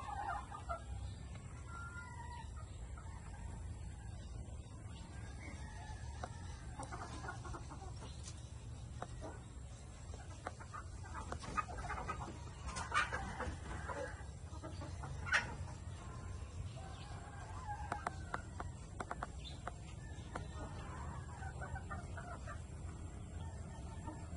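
Sweater breed hens cluck steadily in a farmyard, with scattered sharper calls and soft background chatter from the flock, continuous and moderately distant.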